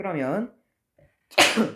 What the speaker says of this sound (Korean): 재채기가 나왔어